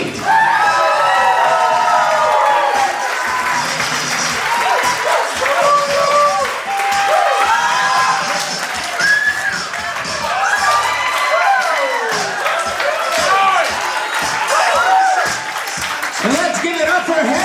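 Wedding guests cheer, whoop and shout loudly with applause mixed in, a dense excited crowd roar sustained throughout with a few brief dips.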